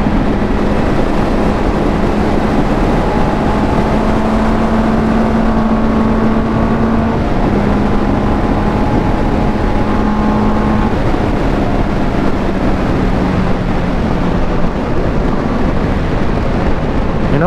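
A Benelli TNT 600 motorcycle ridden along a curvy road with sweeping bends, its engine droning steadily near the microphone and rising and falling in pitch through gear changes, over constant wind rush.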